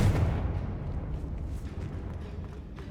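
A Confringo fire-blast spell cast in Hogwarts Legacy lands as a deep, rumbling boom that hits loudly at the start and slowly fades into a low, roaring tail.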